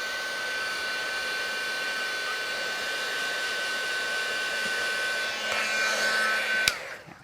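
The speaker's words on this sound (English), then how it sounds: "So now I just want to give it a quick heat set." A handheld heat tool blows steadily on a 6 3/4 inch square card to set and dry ink, a loud continuous fan-and-heater whoosh that holds for about seven seconds before cutting off with a click.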